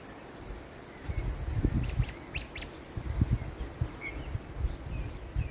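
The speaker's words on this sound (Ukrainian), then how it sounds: "Але ж тут такий спів пташок." Birds sing outdoors in a field edge with wild bushes, several thin chirps and short calls rising over a steady windy rumble, fairly faint and distant.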